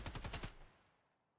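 A rapid burst of about five heavy shots from an ASh-12 rifle in a video game, loud and close, cut off abruptly with a short fading tail.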